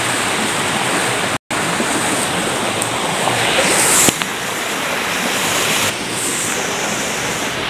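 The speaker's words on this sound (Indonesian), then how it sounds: "saya tidak sengaja menemukan air terjun kecil sih, tapi bisa disebut air terjun" A small forest waterfall rushes in a loud, continuous roar heard up close, steady throughout apart from one momentary dropout, with no voices.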